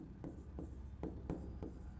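A teacher writes by hand, steady scratching strokes coming in regular short bursts at close range, quiet and with no talk.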